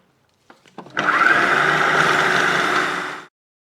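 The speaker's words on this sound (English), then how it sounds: "I'm going to add some parsley just so that you can see how well it keeps chopping" A few short pulses of a motor, then a Magimix food processor chopping parsley whirs steadily for a couple of seconds before stopping, loud and close.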